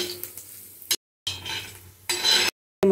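Fried dry prawns are scooped from a hot pan into a bowl, with short bursts of scraping and sizzling at close range, broken by brief silent cuts.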